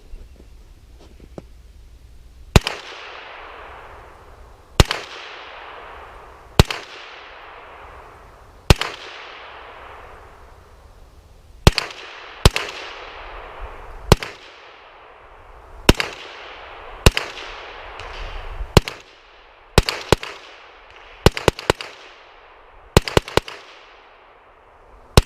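A PSA AKV 9mm carbine fires a magazine of hollow-point and low-recoil rounds at a range, about a dozen sharp cracks, sometimes in quick pairs and sometimes spaced several seconds apart, each ringing off.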